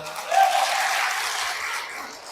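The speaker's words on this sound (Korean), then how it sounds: "앞으로 들어올 보아즈 같은 사위를 위해서 박수 한번 쳐보세요" Congregation in a Catholic church in Madu-dong breaks into a short, dense wash of clapping that rises quickly and holds steady before easing off.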